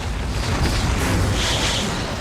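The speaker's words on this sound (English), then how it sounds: "A gamma ray burst is a colossal explosion of a star that occurs asymmetrically." A deep, continuous rumbling boom stands in for a gamma ray burst, the colossal asymmetric explosion of a star, rolling loud and sustained throughout with no clear onset or pause.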